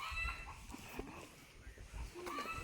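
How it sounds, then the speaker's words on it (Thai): Chickens cluck faintly in the background, with a few short calls over a low ambient rumble outdoors. "เสียงไก่เลย"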